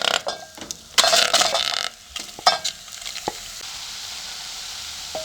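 Chopped, washed liver cooks in a saucepan as a utensil stirs it, giving several scraping, clattering strokes over a soft sizzle that settles to a quieter simmer.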